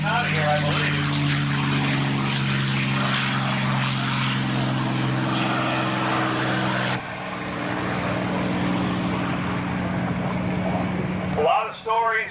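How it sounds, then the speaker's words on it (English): A P-51 Mustang propeller warbird roars past at an airshow, heading into a high-speed vertical roll; loud steady engine drone with strong harmonics that fades and shifts midway, under an announcer's commentary. "Now he's going to crank this Mustang up to 380 knots to give us a nice vertical roll heading out of here"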